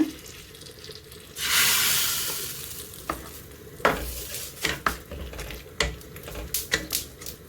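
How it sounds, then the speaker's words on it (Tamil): Urad dal, curry leaves and green chilies hit hot oil for tempering, bursting into a loud sizzle that fades. Sharp clinks and scrapes of stirring follow, with no talk. "இப்போ தாளிக்கிறதுக்கு உளுவரிசி, கருவேப்பிலை, பச்சை இந்த கொச்சிக்காய் எல்லாம் போட்டு நாங்கள் தாளிச்சும் கொட்டிக்கொண்டு"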